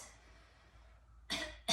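A faint, airy deep breath draws in and trails off, followed by two short, sharp coughs close to the microphone.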